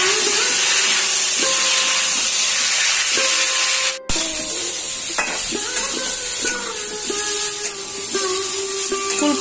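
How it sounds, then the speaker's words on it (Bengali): Cauliflower florets frying in hot oil in a kadai give a loud, continuous sizzle and hiss. Occasional stirring clinks and scrapes sound near, and the sizzle pauses briefly midway. "ওই তেলের মধ্যেই আমি ফুলকপিগুলো লাল লাল করে ভেজে নিব।"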